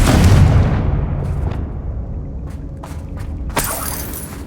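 Bombarda and Confringo spell explosions in the Hogwarts Legacy video game: a loud blast that decays into a rumbling tail, followed by scattered smaller pops and a sharp burst near the end.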